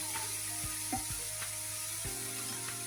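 Soft, steady sizzle of water hitting a pan of frying cauliflower and spices, a faint continuous hiss with a few light clinks and stirs.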